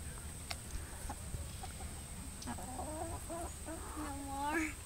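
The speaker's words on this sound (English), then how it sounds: "My sister just got chickens." Backyard chickens cluck softly while being fed cornbread outdoors, a few scattered calls growing into a busier burst of clucking near the end, faint and close under a quiet background.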